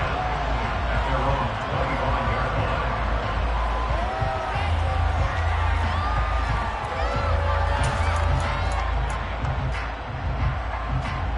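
A home stadium crowd at a playoff football game, a loud, sustained roar of cheering and noise that swells slightly toward the end, with a commentator talking over it.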